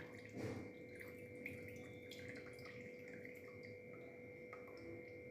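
Sugar syrup is drained from soaked rasgullas while making ras malai, giving a faint trickle and a few soft drips over a quiet steady background. A slightly louder splash comes near the start.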